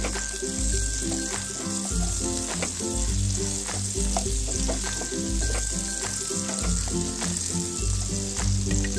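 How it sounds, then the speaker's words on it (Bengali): Onions frying with softened capsicum in a pan, a steady loud sizzle with rhythmic stirring and scraping throughout, no voices. "এবার এর মধ্যে অল্প কিছু পেঁয়াজ দিয়ে নিচ্ছি"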